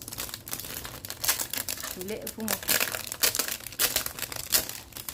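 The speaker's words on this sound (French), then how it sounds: "désolée pour le bruit de plastique." Plastic packaging crinkles and crackles in bursts throughout, close to the microphone, while someone talks over the rustling.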